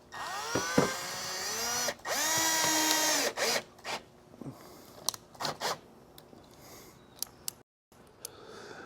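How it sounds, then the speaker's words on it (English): A power drill whirs in several short bursts, its pitch rising and falling, followed by scattered clicks and handling noises in a quiet room. "Okay, back to the drill."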